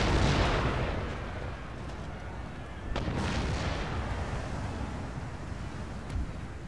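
Artillery fire from a siege of Amsterdam in Empire Total War, with a loud cannon boom at the start, a sharp second blast near the middle and a smaller report later, each trailing into rumbling decay.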